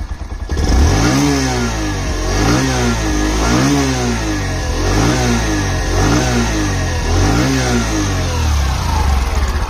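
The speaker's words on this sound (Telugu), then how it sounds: "ఫ్రెండ్స్ ఈ బైక్ ఒక ఎగ్జాస్ట్ నోట్ అయితే ఒకసారి విందాం" A Bajaj Platina 110 with a twin-spark DTSi engine revs repeatedly, its exhaust note climbing and falling in about six regular throttle blips over a steady idle. It is close and loud, with no talking.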